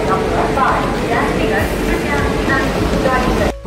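Continuous low rumble of a train at Kolkata station, the 13151 Jammu Tawi express, with clanking and mechanical hum, people talking faintly in the background, cut off abruptly at the end.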